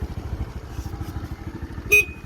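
A short, thin horn beep sounds once over a Honda Dio AF62 scooter's idling engine putter, brief and close.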